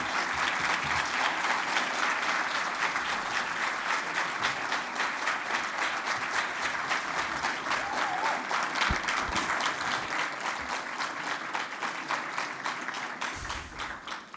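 Sustained applause from a banquet audience honoring award recipients at a civil society awards evening, dense and loud clapping filling the room for over fourteen seconds before tapering slightly at the end.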